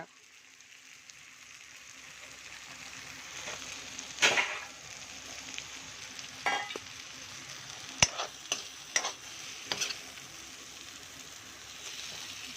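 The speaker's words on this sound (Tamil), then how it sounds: "அந்த கத்திரிக்காய் பெரட்டல் எண்ணெயோடு சேர்ந்து நல்லா வறுப்படும் போது" Brinjal masala frying in oil over a low flame, a soft continuous sizzle broken by sharper spoon scrapes and stirring bursts that grow more frequent toward the end.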